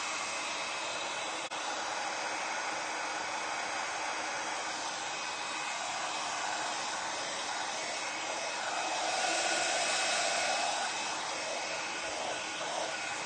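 Hair dryer blowing steadily to dry paint on a decoupage ceramic vase, a continuous close whooshing motor drone with a slight rise in pitch and loudness partway through.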